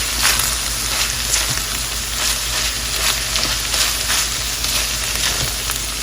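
Green onion, minced meat and egg sizzle steadily in a hot pan while being stirred, a continuous close frying crackle with soft scraping throughout and no talking.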